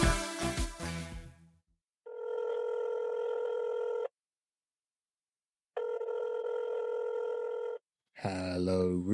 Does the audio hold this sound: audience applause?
no